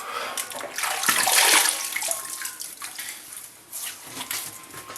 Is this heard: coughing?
no